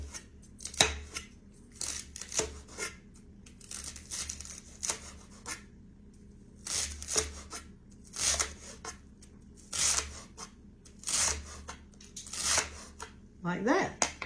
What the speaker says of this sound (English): hold it tight with my hand and cut little bitty pieces